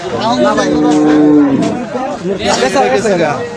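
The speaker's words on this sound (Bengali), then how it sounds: "বাহ, সুন্দর একটা গরু, মানে মিডিয়াম সাইজের মধ্যে।" A medium-sized cow at a busy Eid cattle market lets out one long, loud moo, followed by crowd chatter and nearby voices.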